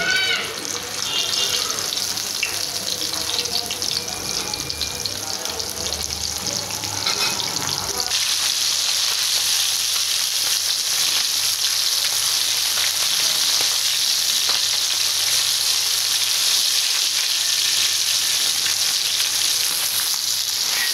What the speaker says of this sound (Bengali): তেলটা গরম হয়ে গেছে, মাছগুলো দিয়ে দিই